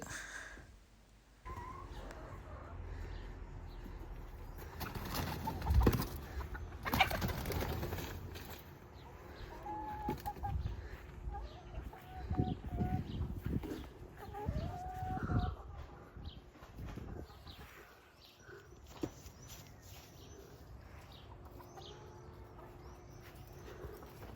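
Newly bought chickens cluck and call around a farmyard, scattered short clucks and occasional louder squawks near and far over a quiet outdoor background, with brief rustling and thumps.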